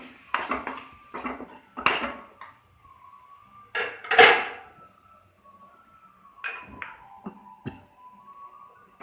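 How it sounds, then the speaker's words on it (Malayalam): A spoon scrapes and clinks against a pot as pineapple is stirred into Kerala-style moru curry, with several sharp metallic knocks and scrapes in irregular bursts, close and moderately loud. "നമുക്കിതിലേക്ക് പൈനാപ്പിൾ ചേർത്ത് കൊടുക്കാം. നന്നായിട്ട് ഇളക്കി കൊടുക്കാം."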